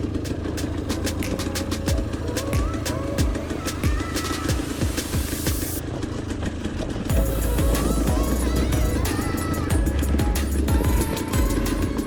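Enduro motorcycle engine revving and idling on a steep, congested descent at the 2019 Sancey-le-Grand enduro, steady and fairly loud throughout, with other bikes' engines rising nearby in the second half.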